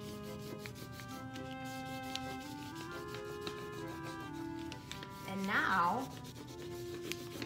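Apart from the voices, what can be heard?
crayon rubbing over a maple leaf on paper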